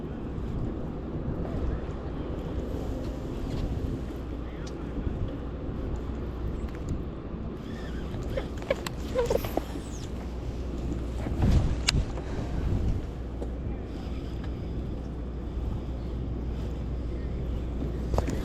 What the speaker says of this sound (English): Because the wind half picked up.